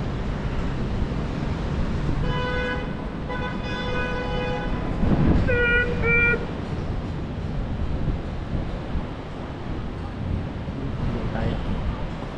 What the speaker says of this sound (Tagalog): Yun, tren oh. Yung MRT.